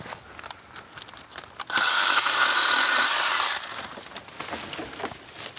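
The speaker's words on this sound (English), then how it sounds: "It's a mini chainsaw." A small battery chainsaw whines at high pitch for about two seconds, cutting, between quieter stretches of handling noise and clicks.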